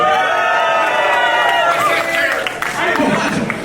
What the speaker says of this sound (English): Cheer this man for breaking the ice